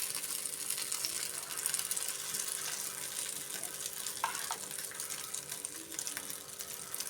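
Bread slices dipped in oil frying on a hot tawa, a steady broadband sizzle running continuously throughout at close range, with no voices.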